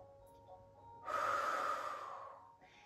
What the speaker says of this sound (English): Take a nice deep inhale here.